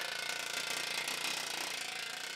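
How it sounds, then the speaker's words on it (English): A planishing hammer smooths dented Vespa body metal with a continuous, rapid mechanical chatter, a dense buzzing rattle that stays even and moderately quiet throughout. "A planishing hammer is used to create smooth metal surfaces."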